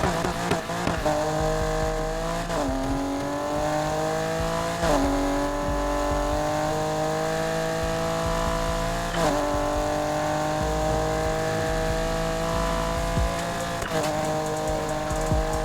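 BMW E30 M3 Evo II race build in Need for Speed accelerating hard without nitrous. The engine roars continuously and climbs through the revs, with several sharp gear-shift drops spaced across a long, loud run.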